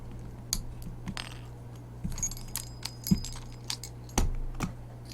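A key slides into a lever lock cylinder and turns, giving a few close, sharp metallic clicks and jangles spread over several seconds.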